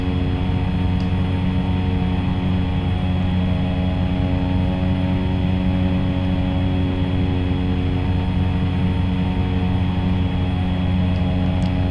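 Cessna Caravan single-turboprop airplane in flight, heard from inside as a loud, constant engine and propeller drone with steady tonal hum, unbroken for the whole stretch.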